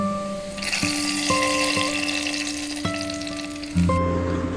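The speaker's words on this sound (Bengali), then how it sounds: "এখন আমি তেল সহ এই পেঁয়াজ এবং মরিচগুলো ডালে দিয়ে দেব" Hot oil with fried onions and dried chillies is poured into simmering chickpea dal, giving a sudden loud hiss and sizzle that swells and keeps crackling. Clanging tones of metal utensils ring through it.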